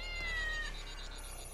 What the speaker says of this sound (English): My cat Squeaker won't come down